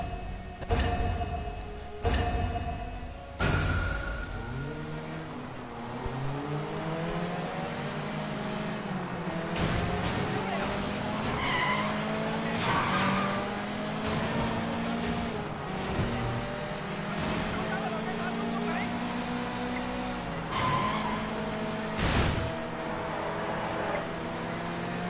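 A car driven in the video game Sleeping Dogs revs up again and again as it shifts through the gears, a steady engine whine with a few sharp knocks early on and no voices.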